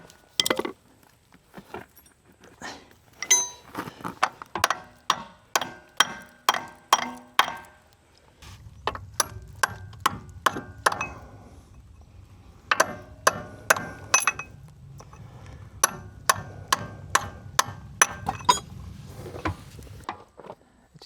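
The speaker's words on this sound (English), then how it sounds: "I'll take a chisel and drive in there, and hopefully we get enough of a gap where we can get this thing beat out too." A steel chisel is driven by hammer into a split worn Caterpillar excavator part, giving a long run of sharp, evenly spaced metallic clanks in quick bursts, loud and close, with a low rumble of machinery underneath midway.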